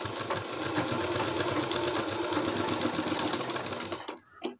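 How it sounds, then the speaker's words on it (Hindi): A sewing machine stitches the inner hem of a kurti with a steady, fast, continuous mechanical whir and rapid needle clatter, running loud and close for about four seconds before stopping abruptly. "ये अंदर की तरफ करते हुए इस पे सिलाई लगाएंगे, तो वो सिलाई बिल्कुल बराबर होनी चाहिए।"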